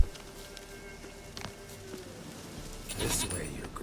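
A goat bleats once, loud and wavering, in The Witcher 3: Wild Hunt, after faint footsteps and soft ambient game sound, with a few quiet thuds before it.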